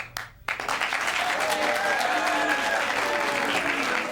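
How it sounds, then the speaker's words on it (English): A 1985 wrestling studio audience on Tuesday Night Titans applauds to vote for the worst actor; after a short quiet gap, dense clapping swells and carries on steadily, with a voice speaking over it. "Your applause, please, for the worst actor."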